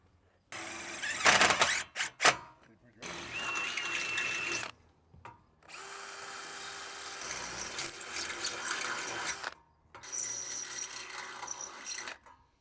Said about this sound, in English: Now screw in your bottom rail and drill your drainage holes.